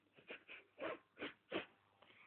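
A voice imitates heavy breathing through the nose, a series of rough, snorting breaths in an uneven rhythm, close and fairly quiet.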